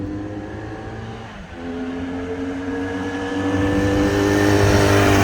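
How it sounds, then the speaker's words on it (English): A 1968 Honda CD175 Super Sport, a small 175cc twin-cylinder motorcycle with dual exhausts, idles with a steady, buzzy exhaust note that dips briefly and then swells louder as the engine revs up. "It's a twin cylinder 175. Got a nice little exhaust note to it."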